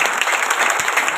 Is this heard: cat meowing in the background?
no